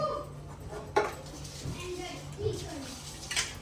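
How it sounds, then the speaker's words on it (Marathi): Dishes, pots and pans being scrubbed and washed at home, with scattered clinks and a louder clatter, under ongoing talk from people nearby. "तर भांडी घासायची"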